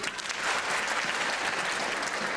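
Wedding guests break into dense, enthusiastic applause, a sustained roomful of clapping that stays loud throughout.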